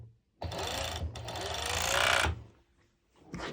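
A sewing machine stitches pinned fabric seams for a cut-out pole dance top, running in two close bursts of steady whirring, then pausing before starting again.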